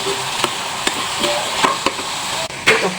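Potatoes and chilli with sesame seeds being stirred in a pan, a handful of spaced scraping and knocking strokes over a soft steady sizzle, close by with no talk.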